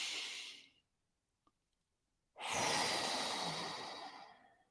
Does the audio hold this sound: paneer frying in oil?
no